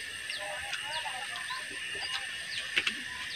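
Faint chirping and twittering birds calling outdoors by a garden hut, scattered short notes over a steady background hiss, with a couple of sharper clicks near the end.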